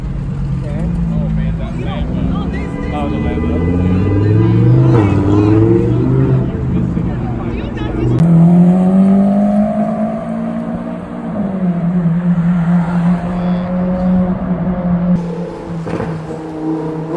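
A supercar on a New York City street revs and downshifts, its engine pitch climbing and dropping in several sweeps, loud and close amid street noise and nearby talk.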